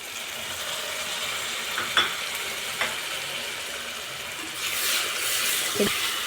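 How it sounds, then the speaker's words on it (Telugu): Ginger, garlic and tomato paste fries in hot oil with a steady close sizzle, a couple of soft scrapes of stirring, and a brief louder burst of spatter toward the end. "ఎర్రగా బాగా వేగాలండి పచ్చివాసన పోయిందాకా వేయించుకుందాం"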